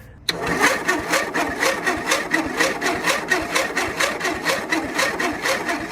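An Ariens YT12 riding mower engine cranking and sputtering after a loose spark plug was fixed, a loud, steady rhythmic chugging that begins abruptly and continues close up throughout.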